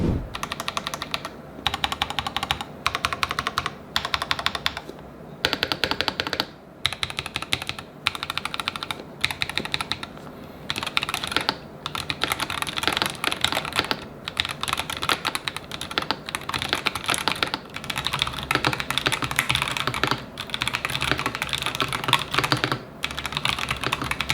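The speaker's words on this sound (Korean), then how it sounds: "타건음 한번 들어보러 가시죠." Fast, continuous typing on a Razer BlackWidow V4 75% custom mechanical keyboard with factory-lubed switches and stabilizers, crisp close-up key clacks in rapid bursts with short pauses, no talking.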